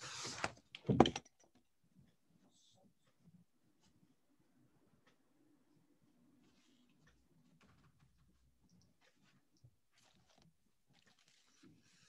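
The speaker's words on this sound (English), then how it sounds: "I've just got to just got to close the door a minute because it just suddenly swung open." A door that had swung open is pushed shut with a couple of close, loud thuds and knocks right at the start, followed by a quiet room with faint low rumbling.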